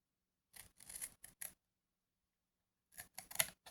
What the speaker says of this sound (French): je vais couper de l'autre côté pour que vous voyez mieux avec les plis